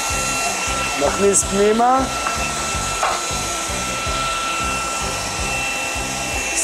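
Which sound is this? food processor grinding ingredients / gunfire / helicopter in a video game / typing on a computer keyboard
food processor grinding ingredients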